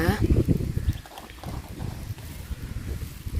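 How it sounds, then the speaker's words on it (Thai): Strong wind gusts buffet the microphone on a mountainside picnic spot in northern Thailand, a continuous low rumbling roar that rises and falls, loud and close throughout. "ลมแรง ลมแรงมากเลย"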